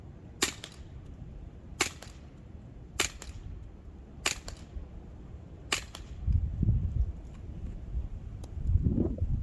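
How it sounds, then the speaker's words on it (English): Five sharp, evenly spaced pops from an Umarex Walther CP99 Compact CO2 air pistol fired outdoors at cans on a breezy day, each a crisp isolated crack, followed by low gusting wind rumble. "I'm going to try and do some headshots, some body shots, and then see if I can take down the cans"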